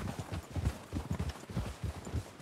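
Horse hooves clip-clopping in Red Dead Redemption 2, a steady rhythmic four-beat walk of several horses on hard ground, close and continuous with no voices.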